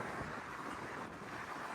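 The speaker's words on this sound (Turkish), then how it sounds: "Yoğun bir rüzgar var." Strong wind at a city intersection, a steady broadband rush buffeting the microphone, loud and continuous with no talk.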